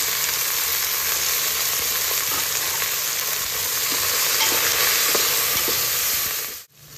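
Fresh coriander and mint fry in oil for paneer biryani. A loud, continuous sizzle with occasional stirring scrapes holds steady until it cuts off abruptly near the end.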